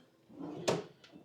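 A hotel room drawer slides and knocks shut with a single sharp thud, followed by a fainter second knock, quiet and close in an otherwise still room.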